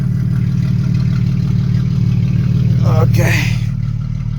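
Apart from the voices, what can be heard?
car engine running after a push start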